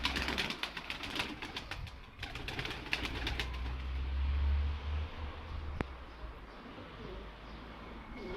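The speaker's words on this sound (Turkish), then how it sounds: "Güzel geziyorlar, uçuyorlar kuşlar." Pigeons in a backyard coop, soft cooing and rustling with brief bursts of wing flapping, faint and close under quiet outdoor noise.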